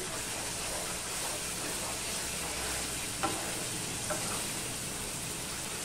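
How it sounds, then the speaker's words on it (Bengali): Mutton being stir-fried for kosha in a kadai makes a dense, continuous sizzle and bubbling, with a couple of faint clicks from stirring, heard close and without voices. "দেখো আমি ঢাকা দিয়ে মাংসটা আমি কষিয়ে নিয়েছি"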